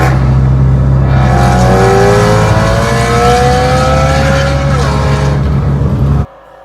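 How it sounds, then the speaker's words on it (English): Car engine in the Gran Turismo 7 racing game on PS5, a loud continuous drone with rising and falling revs through a downshift, ending abruptly. "the downshifts do not sound anything like real life downshifts"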